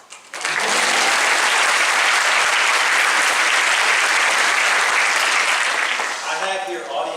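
Audience at a college convocation breaking into sustained, loud applause, a dense wash of clapping from a large crowd that holds steady for several seconds before tapering slightly at the end.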